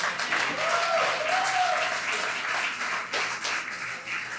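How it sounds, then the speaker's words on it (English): Audience applause fills a hall at a Caribbean Heritage Month celebration, a steady wash of clapping held for several seconds, with a faint voice briefly audible underneath. "Give Rita Joseph another round of applause"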